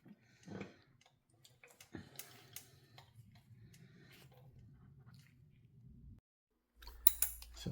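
A Whitworth socket works loose a fastener on a 1974 Norton Commando Roadster Mark II gearbox: close, faint metallic ticking and ratchet clicks with a low mechanical grind, then a brief pause and a sharper clatter.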